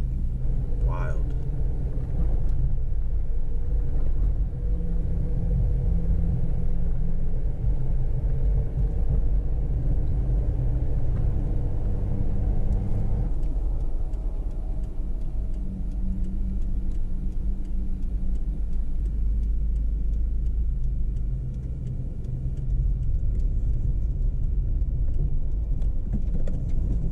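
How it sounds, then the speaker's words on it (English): A car drives through a raging wildfire on Highway 128 near Steel Canyon Road in Napa, with a steady low engine and road rumble continuing throughout, loud and close. "Tyler drives through the raging fire to safety"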